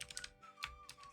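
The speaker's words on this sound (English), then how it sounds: "Then we'll type in Doku's name" A few quick keystrokes tapped on a computer keyboard, soft and close, in a brief uneven burst.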